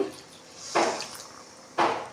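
Two short bursts of water splashing into a pan of tomato okra curry, about a second apart, close and fairly loud with quiet between them.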